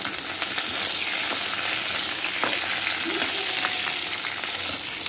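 Beetroot frying in a pan with fennel seeds and curry leaves, a dense, constant close sizzle with a few faint scrapes of stirring, no voices.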